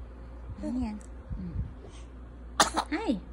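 A baby gives a short, sharp sneeze near the end, amid soft infant vocalizing and an adult's gentle voice during tummy time.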